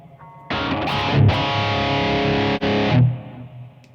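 Distorted electric guitar played through a Blackstar ID:Core 20 amp with reverb engaged, a few sustained chords ringing out with a reverb tail trailing off after the last one.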